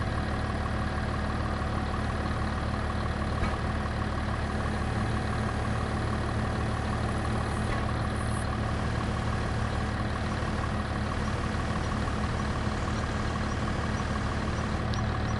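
A tractor engine idles steadily in Farming Simulator 25, a continuous low rumble that holds level throughout with no talking over it.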